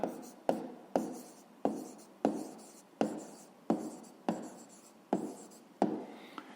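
Someone writes out a maths answer by hand, a pen or pencil making about a dozen evenly spaced strokes, each starting with a crisp tap and trailing off in a short scratchy rasp, close and quiet.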